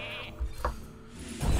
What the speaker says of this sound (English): we need to turn you into a sheep